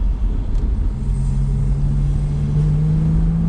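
A Porsche 987.2 Boxster S engine with open sports exhaust and roof down rumbles deeply at close range, its pitch rising slowly as it pulls under steady load.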